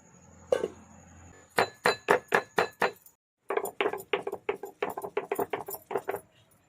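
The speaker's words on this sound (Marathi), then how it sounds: "त्याच्यात आलं ठेचून घेऊया" Ginger being crushed with a hard, rhythmic series of sharp pounding knocks, one group of about six evenly spaced strikes, then a short pause, then a longer, quicker run, close and loud.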